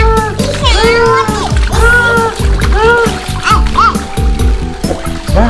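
A wind-up bath toy paddles and splashes in water with a busy churning splatter, while a high, excited voice chatters over it and a mechanical toy tone rises and falls throughout.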